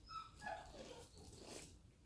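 A dog on a back porch outdoors whines and whimpers in short, high-pitched bursts, fairly faint and a little distant.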